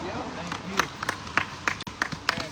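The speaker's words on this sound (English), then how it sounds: "Give her a big round of applause" A small audience claps at a gathering calling for reparations, a few scattered, sharp hand claps ringing out over a low murmur of voices.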